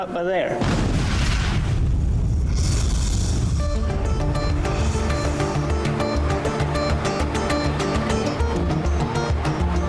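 A deep, heavy underground rock-blasting explosion booms out and leaves a dense, rumbling roar with rattling crackles that fill the rest of the clip.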